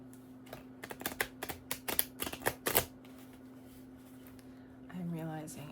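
Playing cards riffled and shuffled up close, a run of quick sharp snapping clicks for a few seconds, then quiet before a voice begins speaking.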